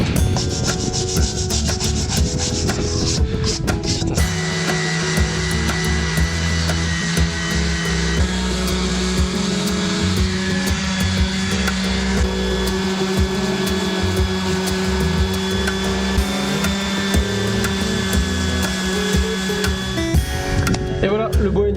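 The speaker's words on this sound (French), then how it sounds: "donc on va venir poncer ça et après ce sera terminé" Sanding a wooden window frame set in a stone wall to clear lime mortar traces, with a power sander running steadily and loudly for most of the stretch after a short burst of rubbing at the start.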